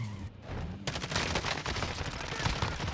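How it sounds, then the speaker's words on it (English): Gunfire in the video game Warzone, a dense burst of rapid shots cracking continuously after a short quieter opening, loud and close in the mix. "Shooting."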